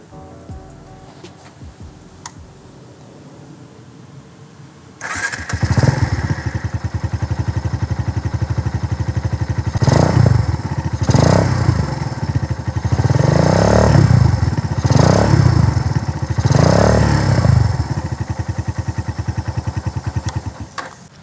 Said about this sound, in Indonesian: Pingin dengar suaranya knalpot? Kita dengar suaranya.